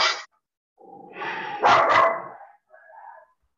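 Dogs barking outside in a quick run of loud, close bursts with short gaps, then a fainter yip at the end; no voices.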